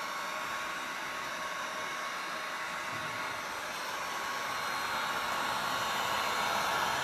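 A heat gun blowing hot air to dry poured paint on resin coasters gives a steady, loud, close whooshing drone that holds unbroken throughout, rising slightly toward the end.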